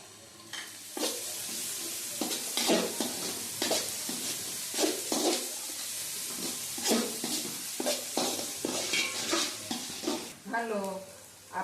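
Tomatoes frying with turmeric and garam masala for poha make a busy sizzle, with repeated spoon scrapes and stirring strokes against the pan at close range. A brief voice-like sound comes near the end.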